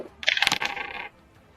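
Real dice clattering as they are rolled, a quick bright rattle of a few bounces close by, then settling to quiet.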